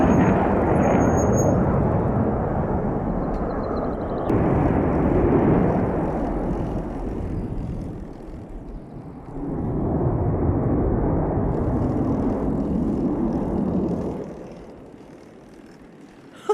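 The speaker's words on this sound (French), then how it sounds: "Je sais pas ce qu'ils font ces avions." Deep roaring rumble of airplanes passing overhead, swelling and fading in long waves, then dropping away near the end.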